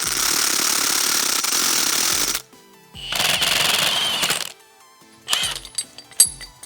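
An impact-style power tool rattles in loud sustained bursts, with pauses between them, while removing the crankshaft pulley from a roughly 30-year-old engine.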